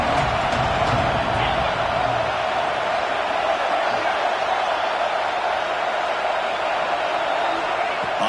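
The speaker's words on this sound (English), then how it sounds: "the crowd coming to life here, trying to help this defense down in the red zone" A football stadium crowd roars steadily throughout a college game with Auburn playing, as fans try to lift the defense in the red zone, a dense, continuous wash of cheering with no break.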